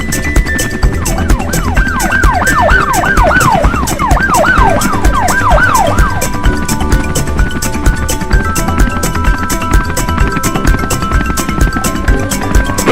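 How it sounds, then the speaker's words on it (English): A toy Lego police helicopter siren blares loudly and steadily, its wailing tone sweeping up and down repeatedly before settling into a held electronic pitch over constant clicking. "Copter 1, go ahead and let your sirens blare."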